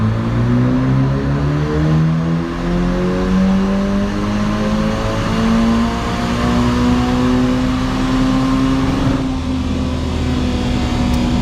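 A Ferrari Portofino's F154 V8 engine revs and holds high, its pitch climbing steadily and staying loud and close throughout, with no voices.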